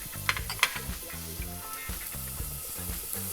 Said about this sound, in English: we're going to saute the garlic and shallots